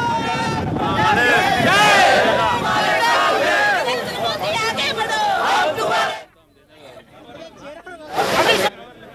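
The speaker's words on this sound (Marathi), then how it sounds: "दहिसर जकात नाक्यावर जोरदार जल्लोष करण्यात आला" A large crowd celebrates loudly at the Dahisar octroi checkpoint as the octroi post closes, with dense cheering and babble filling most of the clip, a brief lull, then another burst of shouting near the end.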